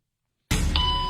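After a brief silence, a single tone sounds in a hidden camera conformity experiment: a sudden bell-like ding that rings on as a clear, sustained note.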